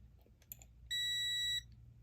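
A multimeter continuity tester checking a switch gives a single sustained electronic beep, high and steady, for under a second in a quiet room, preceded by a few faint clicks.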